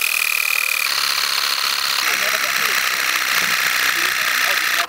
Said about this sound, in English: an air compressor running off the same battery